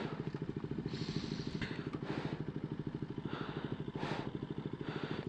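A motorcycle chugs slowly over a rough, stony road with no petrol stations around, a low, rapid, even engine thump at close range, with faint clatter and bumps over the rocks.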